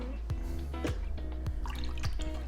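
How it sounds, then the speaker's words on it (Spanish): Liquid water conditioner falls in drops into tap water being prepared for a freshwater aquarium. A few distinct, close plinks land about half a second apart over a low steady hum. "Entonces le echo 2 gotas"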